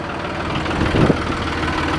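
A John Deere tractor pulling an Armstrong disc runs with a steady low engine rumble and idle-like drone, close by, with a brief rougher swell in the middle and no talking.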